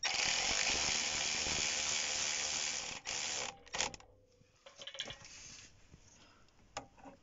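Ratcheting wrench clicks while bolts are tightened on the rear axle of a Honda TRX 250 ATV, a steady close burst of rapid clicks followed by a few scattered mechanical taps, with no talk.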